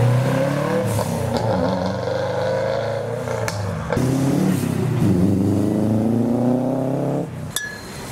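A plum-coloured Nissan S14 JDM car accelerates hard away from a slippery car show, its engine revving up through rising strokes with a brief lift between them, loud and close before easing off at the end.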